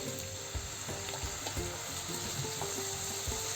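Potato bhaji sizzles and crackles in a pan as a little water is added, a steady, close frying hiss with small pops and clinks running throughout.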